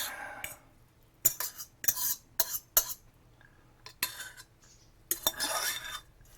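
Metal utensils clink and scrape against a bowl while Korean cold instant noodles are stirred, several sharp irregular bursts separated by short quiet gaps, close and fairly soft.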